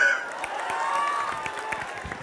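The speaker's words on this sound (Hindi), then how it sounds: "दोबारा ताली बजाओ।" Audience at a live comedy show crowd-work session claps and cheers together, a dense steady wash of applause with scattered whoops running throughout.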